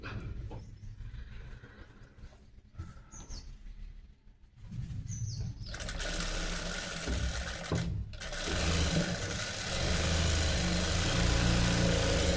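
A sewing machine stitches a blouse in a boutique workshop, running in a steady, loud mechanical whir that starts partway through and continues to the end after quieter, intermittent stitching earlier.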